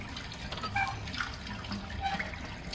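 Fountain water draining in an adventure game, quiet trickling and gurgling water with small drips and bubbling, no talk.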